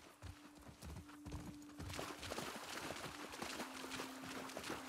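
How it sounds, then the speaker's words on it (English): Horses' hooves clip-clopping steadily at close range in The Last of Us Part 2, with a faint whinny and a low musical tone humming underneath. "We have to leave the horses here."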